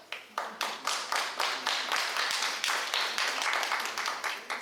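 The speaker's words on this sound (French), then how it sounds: "Et que nous pouvons applaudir quelques instants" Conference audience applauding, a steady run of brisk, close hand claps with a regular rhythm sustained for several seconds, fairly loud and without talk.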